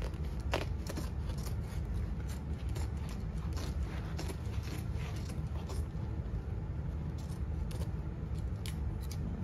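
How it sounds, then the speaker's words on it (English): Quiet snipping of scissors through seat upholstery fabric on a 1986 Alfa Romeo Spider, a run of irregular crisp cuts and rustles close by against a low background hum. "Handy dandy scissors."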